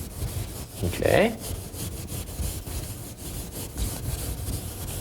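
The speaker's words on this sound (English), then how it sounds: "We want to use a lot of water here as we're wet sanding." Wet sandpaper rubs back and forth over auto body paint slicked with water, a steady close scrubbing rasp with one brief spoken word early on.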